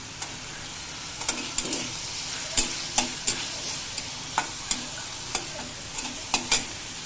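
Chopped garlic sizzles in hot oil while beef fries for a mashed beef dish, a steady close frying hiss broken by scattered sharp pops and spoon scrapes, with no talking.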